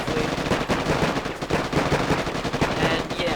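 Rapid gunfire and explosions from a Boom Beach video game attack, a dense continuous crackle of shots at steady volume with faint voices mixed in.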